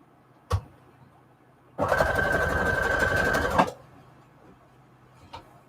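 A sewing machine stitches lace seams in a steady, loud run of about two seconds, bracketed by a couple of light clicks in a quiet room.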